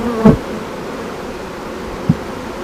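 Steady, close buzzing of many honeybees at a hive holding a relocated swarm, with a couple of brief dull knocks rising above the drone.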